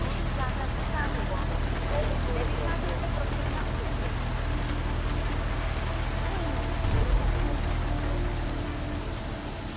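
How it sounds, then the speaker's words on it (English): Steady, even rain falls in the video game Deus Ex: Mankind Divided, a constant hiss and patter close up with a low rumble beneath. "And that rain noise stopped immediately."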